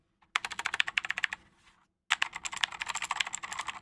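Typing on a plastic Keychron mechanical keyboard, a quick run of close, sharp clacks with a slightly rattly tone, then a brief pause before a second, denser burst of keystrokes, with no talking.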